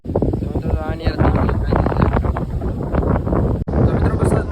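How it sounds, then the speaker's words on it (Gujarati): Wind blows hard across a pigeon setup outdoors, rumbling against the microphone in uneven gusts, with someone speaking over it and a brief dropout near the end. "અત્યારે હજી પવન છે"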